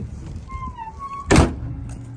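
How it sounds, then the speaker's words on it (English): A bus luggage bay door swung shut with one heavy, close thunk, preceded by faint background hum and a brief squeak, then a short settling rattle. "Once you've checked that, go ahead and close the door"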